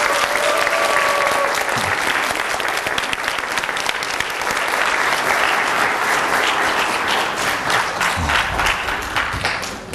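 Loud, continuous audience applause welcoming a speaker at a church gathering, dense and even for the whole stretch with a brief voice underneath.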